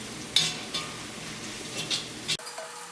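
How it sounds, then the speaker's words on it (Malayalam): Turmeric powder frying in hot oil in a pan for okra thoran, a steady sizzle with occasional spatula scrapes and clinks, close up, ending in a sudden drop as the heat or stirring changes. "ഇനി മഞ്ഞൾപ്പൊടി ഇതിനകത്ത് കിടന്നിട്ട് നന്നായിട്ട് മൊരിയണം."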